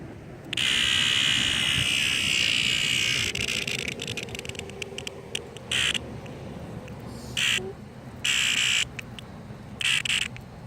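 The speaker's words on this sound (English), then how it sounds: "It's called a cicada." A cicada held in the hand giving off loud, harsh buzzing: a long continuous drone at first, then broken into several shorter buzzing bursts with gaps, close to the microphone outdoors.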